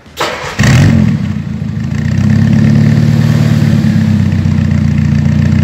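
A Mini Cooper fitted with a carbon fiber exhaust starts up with a loud burst and settles into a steady, close, throaty idle that holds evenly to the end.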